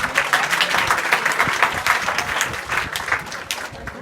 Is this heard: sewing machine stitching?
no